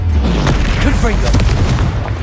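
In Hogwarts Legacy, a Confringo spell erupts into a heavy, rumbling explosion that is loud and close, with voices mixed in over the blast.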